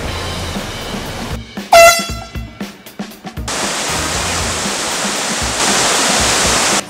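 Waterfall on Sakhalin, a steady broadband rush of falling water that swells after a few sharp clatters and a brief tonal blip, then holds loud and close to the end.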